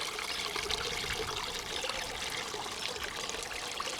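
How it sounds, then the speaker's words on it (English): Water from Bear Wallow Spring flows in a steady, close trickle and gurgle. The wash is continuous and even, with no voices over it. "Bear Wallow Spring is flowing"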